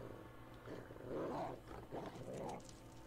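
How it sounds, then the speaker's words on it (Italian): A dog in the horror video game Layers of Fear, Inheritance DLC, makes a few low, rough growl-like bursts as it bolts off, faint and somewhat distant over the game's ambient background. "ho sentito il cane che partiva a razzo"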